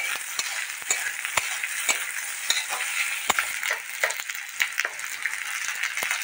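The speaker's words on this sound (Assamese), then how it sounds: "আলুখিনি এতিয়া মই ধুনীয়াকে ভাজি ল'ম ৰাঙা হকে" Potatoes frying in a pan with onions, giving a steady loud sizzle broken by scattered sharp clicks and scrapes of stirring, with no voices.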